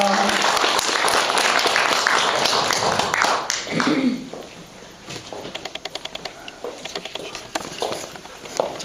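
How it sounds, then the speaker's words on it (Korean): A group is welcomed at a Korean Catholic gathering with a burst of dense applause from the audience. It fades into scattered individual claps and shuffling footsteps, with voices murmuring underneath. "네, 박수로 맞이합니다"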